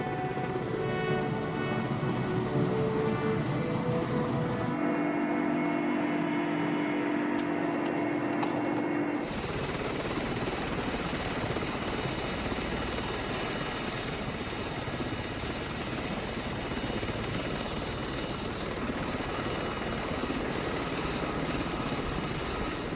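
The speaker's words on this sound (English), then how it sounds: "Somehow I don't think these choppers were designed with heli-skiing in mind." A helicopter flies near a volcano on Russia's Kamchatka Peninsula, its loud continuous rotor and turbine roar filling the whole stretch, with a brief change in tone early on before the steady thrum resumes.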